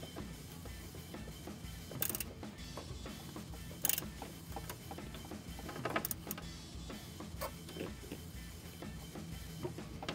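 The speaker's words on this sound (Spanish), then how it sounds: "hay que apretar bien los tornillos para asegurarnos de que se quede en su posición" Screws being tightened on the gear shifter of a VW Beetle, with a 3D-printed part, give faint ratcheting and mechanical clicks and a few sharper knocks, close by and continuous with no talk.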